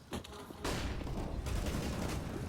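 AK rifle gunfire in a Counter-Strike match: a dense burst of automatic shots, then another sustained stretch of rapid fire with a brief lull between, close and loud.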